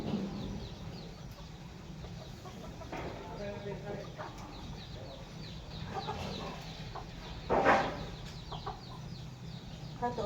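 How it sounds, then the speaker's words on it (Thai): Farmyard chickens clucking while they feed around a rural Thai home, soft scattered clucks and bird calls at low level over background noise, with a sharper louder burst near the end. "ไก่มันกิน"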